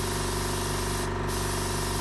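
Airbrush spraying grey paint on a pet portrait, a loud continuous close hiss with a steady mechanical hum underneath and only a brief dip.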